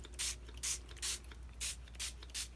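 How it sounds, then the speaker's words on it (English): A series of light spritzes of ink spray onto art journal paper, six or so brief hissy bursts spaced evenly, close and soft. "Start off with your lightest color and just spritz around here and there."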